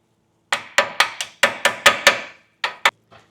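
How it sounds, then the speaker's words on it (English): A hammer taps out brake pins on a Land Cruiser 200 Series front brake in a quick series of sharp metal strikes, about ten blows with brief pauses between them, close and ringing. "I'll do a little tappy, tappy, tappy with the hammer."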